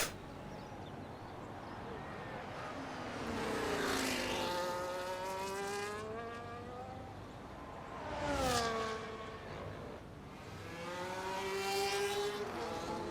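An F1 car in the racing game F1 25, on a league race at the Australia circuit, whines through the final corner, its engine pitch climbing through upshifts and dropping on downshifts in repeated sweeps, loud and continuous, with a voice talking over it.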